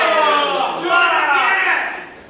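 A wrestling crowd reacts to a wrestler working them during a match, with a loud, sustained mass of cheering and shouting voices that swells in the middle and tapers off.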